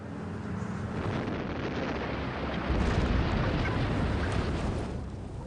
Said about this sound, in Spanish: Se le llama soldadura de explosión.